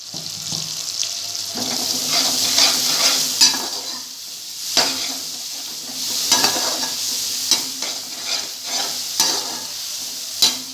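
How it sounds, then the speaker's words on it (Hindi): Cumin, black pepper and salt frying in a pan for a lauki dish, a close, bright sizzle with intermittent scraping and stirring knocks from a spoon against the pan, no talking. "ये हमारे अच्छे से फ्राई हो रहे हैं"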